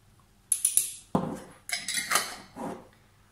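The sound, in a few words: spoon scooping and mixing mustard for leek quiche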